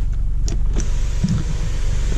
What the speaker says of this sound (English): I'll open up the sunroof real quick for you so you can see how far that goes back.